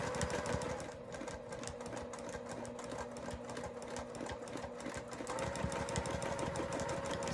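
Sewing machine free-motion quilting elongated oval pebbles, a continuous fast mechanical rattle of stitching that runs steadily throughout, close and even, with a slight shift in pace partway through.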